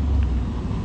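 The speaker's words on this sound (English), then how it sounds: "Here comes another car that way." A car on the road gives a low, steady rumble with some wind buffeting, loud and close for under a second, and no voices.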